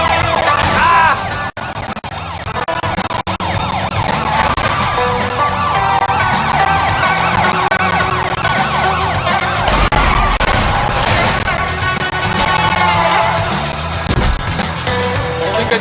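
Wailing police car sirens from the video game Sleeping Dogs sweep up and down, loud and continuous, with a couple of sharp bangs early on and little talk.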